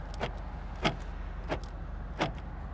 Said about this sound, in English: Power door locks.